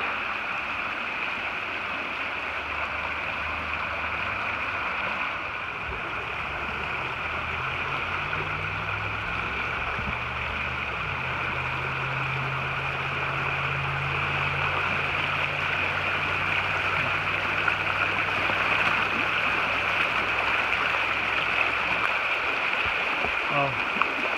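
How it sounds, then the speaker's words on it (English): Steady rushing of a creek flowing at a trail crossing on the Appalachian Trail, a constant moderate wash with low rumbling underneath, heard alone with no talking. "Okay, I just got to this creek crossing, and this big log is looking really slick."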